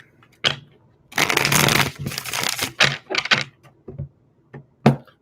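Tarot cards are riffled and shuffled up close in several quick bursts, followed by a few sharp taps and slaps as the deck is squared.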